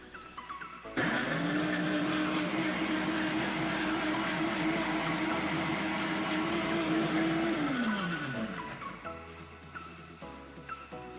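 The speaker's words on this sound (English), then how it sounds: "this 350 ml tub for my power blender. Let's blitz this for about 5 seconds or so" A loud power blender whirs steadily at high speed for several seconds, blitzing a kimchi base in a 350 ml tub, then winds down as the motor slows and stops.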